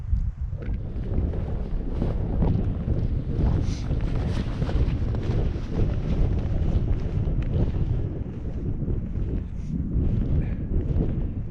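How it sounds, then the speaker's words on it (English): Strong wind buffets a microphone high on a mountainside, a continuous loud low rumble with gusting surges and no pause for the whole stretch. "it's considerably windier here"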